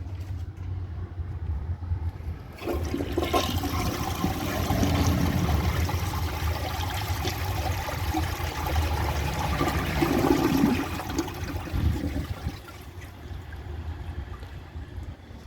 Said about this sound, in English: Very nice flush. I really do like these toilets.